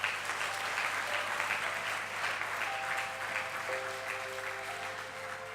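A church congregation at a Sunday service in Abidjan applauding, dense sustained clapping from a large crowd that fills the space, with a few faint sustained musical tones under it.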